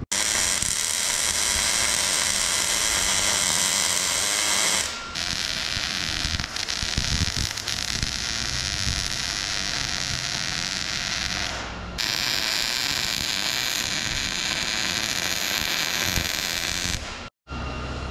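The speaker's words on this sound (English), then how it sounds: "let's get to welding" Welding on an old diesel loader gives a continuous harsh crackling hiss that runs in long unbroken bursts, stopping briefly between passes before starting again, close and fairly loud.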